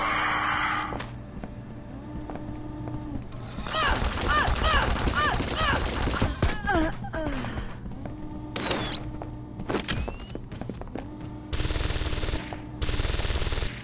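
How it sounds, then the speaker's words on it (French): Bursts of rapid gunfire aimed at a turret in Deus Ex: Invisible War, loud and close, with mechanical hums and whirs between volleys and a voice talking over parts. "Mais c'est ma tourelle, arrête de tirer dessus"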